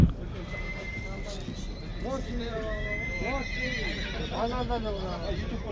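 At a horse market a horse neighs loudly and repeatedly, with the whinnies rising over constant crowd chatter and the clip-clop of hooves nearby.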